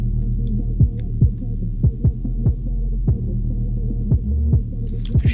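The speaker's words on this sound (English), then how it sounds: "I would go and use right away some heavy saturation." A thick, throbbing low-end tone pulses in a steady rhythm, each hit gritty and distorted from heavy FabFilter Saturn 2 saturation on the low mids, with no voices.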